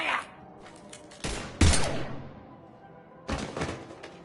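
Gunfire breaks out in Mass Effect 3 Legendary Edition, with several loud, close bursts of shots and heavy thuds separated by short gaps.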